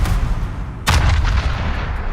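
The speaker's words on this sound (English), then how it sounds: "Back gun fires at the Puerto Rico" The rear gun turret of a warship in the naval combat game World of Warships fires one heavy, booming salvo partway through, over a loud, continuous rumble of ocean and engine noise.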